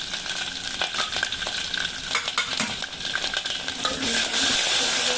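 Green chillies and curry leaves fry in hot oil with garlic, cumin and mustard seeds for a dal fry tempering: a loud, continuous sizzle with a spoon scraping and clicking against the pan.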